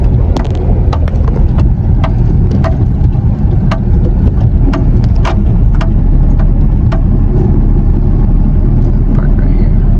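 Flatbed tow truck engine pulling forward, a steady loud low rumble with continuous road and engine noise and scattered clicks and knocks throughout.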